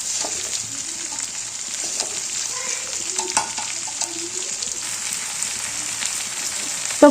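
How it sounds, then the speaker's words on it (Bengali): A mesta fruit pickle mixture in oil is stirred in a pan, with a steady bright sizzle beneath soft scraping and knocking of the spoon against the pan. "তো এটা আমি এখন খুব ভালো করে নাড়াচাড়া করব"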